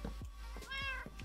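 A Minecraft cat meows a few times in short, close calls, one drawn-out and tonal, with no talking.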